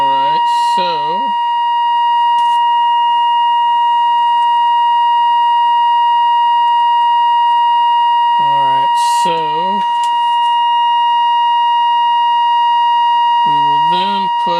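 Steady test tone from a signal generator used while measuring IF stage gain on a Breting 14 radio, a loud constant pitch running throughout, with a voice speaking over it in short bursts.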